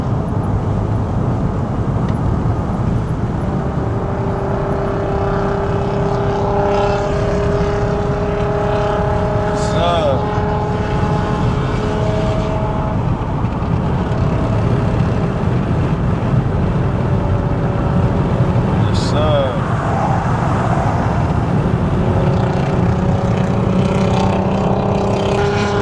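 A nearby engine drones continuously, rumbling steadily with occasional revving swells, loud and unbroken throughout.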